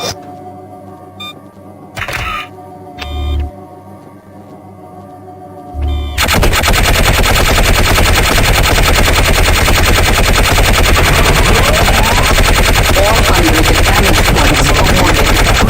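Gunfire on a firing range in the PC shooter Gunman Chronicles: a few separate electronic clicks and thuds, then a loud, dense burst of rapid automatic fire that keeps going to the end.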